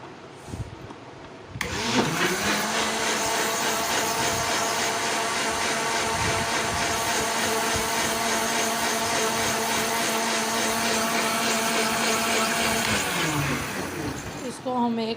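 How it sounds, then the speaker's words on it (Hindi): An electric blender grinds a melon milkshake with sugar, starting with a sudden whir, holding a steady loud motor drone for about twelve seconds, then winding down. "इसको हम 1-2 मिनट के लिए ग्राइंड कर लेंगे"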